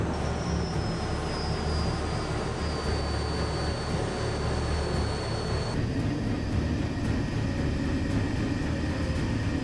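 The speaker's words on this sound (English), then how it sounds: "The pilot had to skillfully navigate through the rugged mountains before landing on the small runway" An airplane lands on a small runway among rugged mountains at Narsarsuaq, an Arctic airport. A loud, steady engine roar with a high whining tone continues throughout, and the sound shifts character about halfway through.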